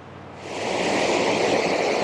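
Waterfall cascading down at Crooked Creek, Alaska: a steady, loud broadband rush of falling water that swells in the first half second and then holds constant, with no voices.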